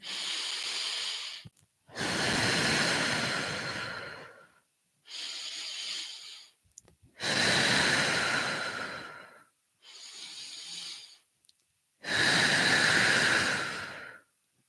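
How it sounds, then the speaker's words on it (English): Slow, deep breathing during a guided meditation, with six long, loud breaths in and out separated by short silences, close to the listener, with no talking. "Taking another couple of deep breaths, please."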